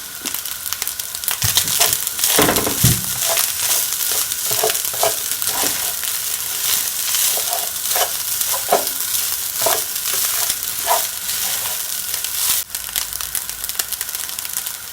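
Rice fries in sesame oil in a hot pan for a homemade hibachi dinner, a constant loud sizzle with repeated scraping and stirring strokes breaking through at an uneven rhythm.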